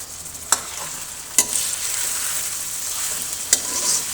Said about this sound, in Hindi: चिकन को भी हम फ्राई होने के लिए छोड़ देंगे 2 से 3 मिनट के लिए